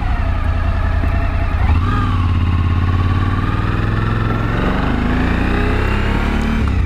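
Suzuki V-Strom 1000 motorcycle engine, a 2014 model with low mileage, revs and settles, its loud steady drone rising in pitch partway through and holding near the rider with no speech.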